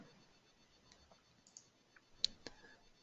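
A computer mouse clicks an OK button in Clientmate tax software, giving a couple of sharp, quiet clicks close together near the end, alone against a faint background hiss.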